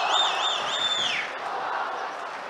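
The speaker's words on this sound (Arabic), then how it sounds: "اسمع صوت الجمهور بعد الهدف" A football stadium crowd roars after a goal in a match between Hutteen and Al-Wahda, a broad distant wash of cheering with shrill whistle-like tones rising over it, then easing off.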